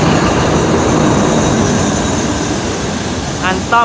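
Thai rapid train No. 167 hauled by an Alsthom diesel locomotive, ADD class, rolling past with a steady, loud broadband rumble throughout and brief higher-pitched screeching near the end.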